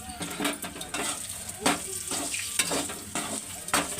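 Scored eggs fry in black chilli masala and are stirred briskly, with a loud continuous sizzle and frequent metal scrapes and knocks against the pan.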